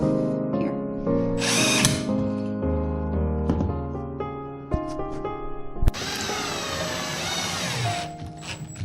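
A power drill drives screws into a wooden 4x4 post, with bursts of rising and falling motor whine, short pauses between runs and a harsher grinding stretch near the end, recorded close and fairly loud.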